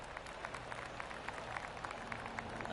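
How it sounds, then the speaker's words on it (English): Distant golf claps from spectators around the course in PGA Tour 2K25: faint, scattered polite clapping at low level under steady ambient noise. "I can hear the golf claps around the course"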